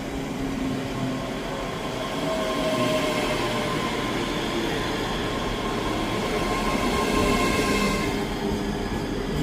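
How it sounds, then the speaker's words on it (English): A Scotrail class 385 electric train pulls into Edinburgh Haymarket station, a loud, sustained rumble of wheels on track with faint squealing tones, building slightly as it nears and rolls past. "Arriving in now is the 1255 Scotrail service from Glasgow Central to Edinburgh Waverley, 385005."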